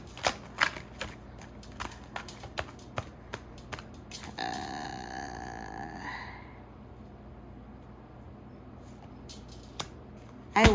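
A deck of cards is handled and shuffled: a string of sharp, evenly spaced clicks, then a two-second fluttering riffle cascade, then more scattered snaps. It is quiet and close, with no talking.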